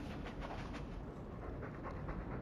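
A dog pants steadily in Dragon Age 2, quick rhythmic breaths running throughout at moderate loudness over a dense game background.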